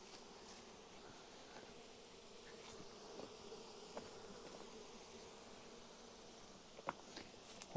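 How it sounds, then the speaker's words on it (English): A hornet buzzing around a Japanese beehive outdoors, a faint steady drone with a few soft clicks and taps, no voices. "Oh, there's the hornet."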